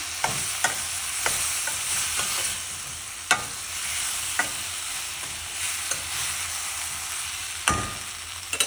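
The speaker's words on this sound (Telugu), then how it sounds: "మళ్ళీ కొంచెం అట్లా ఉప్పు స్ప్రింకిల్ చేసుకొని బాగా కలబెట్టేసి" Okra with tomato and a sprinkle of salt stirred in a hot pan for an Andhra-style tamarind gravy, a steady sizzle broken by sharp spatula scrapes and knocks at irregular intervals, close and with no talk.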